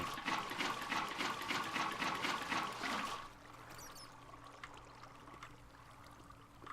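Water pouring from blocks placed in the Minecraft video game, a steady rushing trickle that runs loudly for about three seconds and then drops to a quieter, thinner flow.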